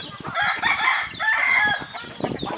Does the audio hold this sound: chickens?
yes